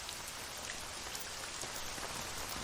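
Steady heavy rain falling in an anime scene, a dense even hiss of drops on surfaces, loud and continuous throughout with no voices.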